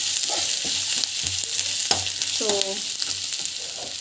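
Turmeric powder being sautéed in a pan as part of a home-cooked pregnancy diet dish, with a steady broadband sizzle and repeated spatula scrapes and stirring knocks throughout, fairly close and loud, with no talking.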